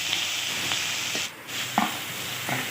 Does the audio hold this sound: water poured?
no